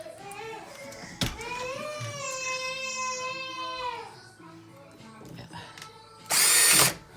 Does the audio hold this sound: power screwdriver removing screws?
yes